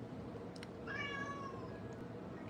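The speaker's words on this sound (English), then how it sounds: "Kitty, yep." A cat gives a single drawn-out meow lasting under a second, fairly close, over steady low background noise, with no talking.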